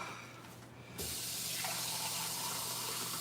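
Tap water pours steadily into a container in a home kitchen during cooking, starting with a sudden rush after a second and then hissing evenly and close.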